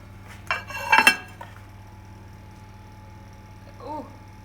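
Knife cutting a slice of cake on a plate, heard as a couple of close, brief clinks and scrapes of metal on dishware against a quiet background hum.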